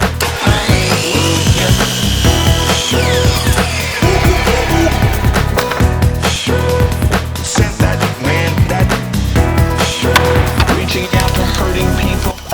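Power saw cutting wood pieces for a cornhole board, a loud whining motor with repeated rough cutting bursts and clattering over a sustained stretch, close and busy throughout.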